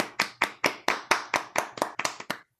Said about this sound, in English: A loud clap for Beth.